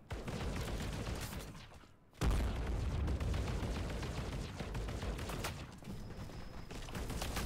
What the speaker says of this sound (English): Let's throw a grenade by pressing G.